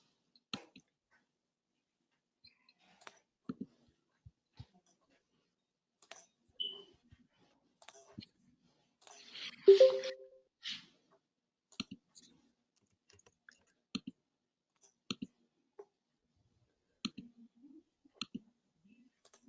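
Sparse, faint computer mouse clicks in a quiet room, scattered single and double clicks spread over the whole stretch, with a brief throat clearing partway through.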